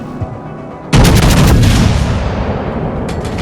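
Naval gunfire in World of Warships Legends as a loud, sudden broadside erupts after a quiet moment, followed by a sustained rumbling roar that slowly fades.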